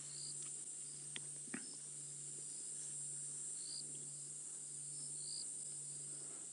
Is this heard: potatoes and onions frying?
no